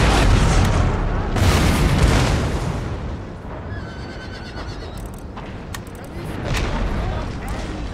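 Cannon fire in Empire: Total War rolls out as heavy, booming blasts amid a crowded battlefield din, with horses whinnying and hooves clattering. The roar swells and fades twice over several seconds.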